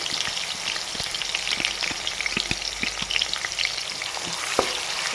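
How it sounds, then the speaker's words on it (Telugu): Onion fries in oil in a pan while fish pulusu is being made, a steady close sizzle with sharp pops and crackles scattered throughout and light stirring, and no voices. "ఉల్లిపాయ పెట్టి యాడ్ చేస్తున్నానండి"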